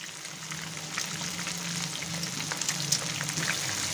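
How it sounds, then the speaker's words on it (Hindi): Chicken balls frying in a pan of oil, heard as a steady close sizzle with small crackles and pops all through, with no voices. "ये देखिए हमारे चिकन बॉल अच्छे से फ्राई हो गए हैं।"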